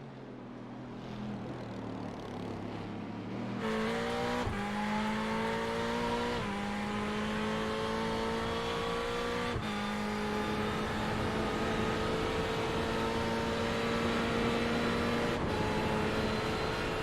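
Sports race cars roar around the VIR track, a loud engine drone shifting pitch as gears change, with a continuous, strong engine note and no talk over it.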